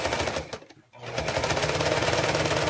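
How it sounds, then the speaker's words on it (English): Sewing machine stitching a quarter-inch seam allowance on a zippered quilting project, a steady loud mechanical whir with a rapid pulse that briefly stops, then starts again and runs on continuously. "I'm just gonna go using a 1/4 inch seam allowance."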